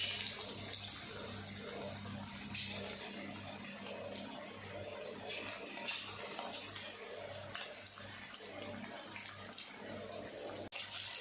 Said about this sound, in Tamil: இறால் பகோடா ஒரு பக்கம் நல்லா பொரிஞ்சு வர ஆரம்பிச்சிருச்சு.